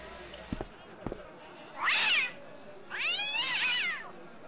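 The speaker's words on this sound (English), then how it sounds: "I'm gonna pet the kitty." A cat in the Broken Sword adventure game lets out two drawn-out, wavering meows, the second longer than the first, after a couple of soft taps.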